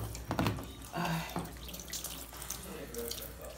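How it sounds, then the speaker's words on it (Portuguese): Water runs from a tap to fill a washing machine that has no proper water hookup, a steady close splashing stream with some dripping, while a person speaks faintly in the background. "a gente ainda não fez a instalação de água dessa máquina, fica enchendo uma torneira"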